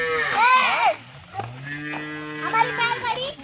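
Bullocks hitched to a bullock cart in a Konkan village moo loudly and close, with two long lowing calls separated by a brief pause.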